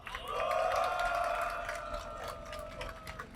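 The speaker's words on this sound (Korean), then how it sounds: "힘찬 박수와 함성 부탁드리겠습니다" A crowd at a Korean media union rally against the Eugene Group claps and cheers together, a dense, sustained wash of applause with shouts rising over it, moderately distant.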